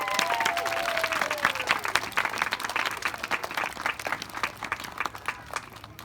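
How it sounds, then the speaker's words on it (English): Elementary school assembly audience claps for Student of the Month recipients, a lively wash of many hands with some whistles or squeaks early on, fading slightly toward the end. "let's give our Student of the Month recipients a big round of applause"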